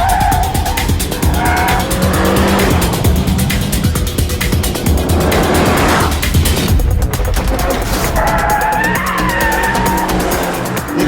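Renault Megane 265 hot hatch driven hard on a track, its engine roaring loud and close while tires squeal in long wavering screeches through the corners, without pause.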